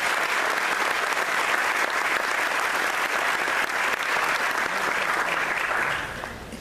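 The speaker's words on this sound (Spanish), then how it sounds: "Yo quiero pedir un aplauso para todos los conferencistas." Sustained audience applause at an academic forum on the environmental and social impact of fracking, dense and even for about six seconds before tapering off near the end, with no talk over it.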